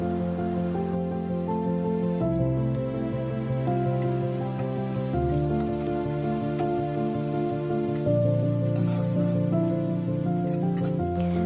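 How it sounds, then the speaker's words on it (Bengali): Chopped onion, two chilies and a little garlic paste frying in a pan for a roasted eggplant bharta, giving a steady, continuous sizzle under background music without any talking. "পেঁয়াজ, রসুন আর লঙ্কাটাকে একটু ভেজে নিচ্ছি।"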